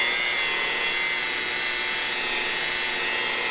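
A polishing wheel spins at about 1300 RPM, buffing scratches out of car paint with light pressure, making a steady loud whirring hiss that holds unbroken throughout.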